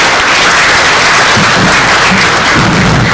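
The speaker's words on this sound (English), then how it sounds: "Let's give them a round of applause." Sustained applause from a conference audience fills the room, dense and steady throughout with no talk over it.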